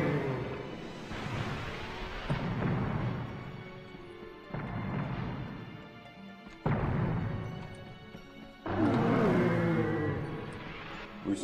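Cannons firing in the video game MediEvil: repeated booming blasts in bursts, each loud onset followed by a rumbling decay, with no talk over them.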